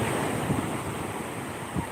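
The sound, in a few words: rough sea waves and wind before a typhoon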